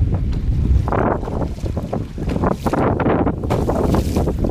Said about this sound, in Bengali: আর আজকে এত হাওয়া, গাড়াল নদীতে তুফান উঠে গেছে